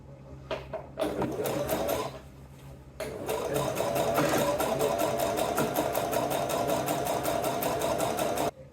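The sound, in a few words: sewing machine top stitching a crochet granny square bag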